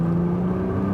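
A Nissan GT-R Premium on an autocross course at full throttle, a brief, loud, steady engine drone heard close up and alone.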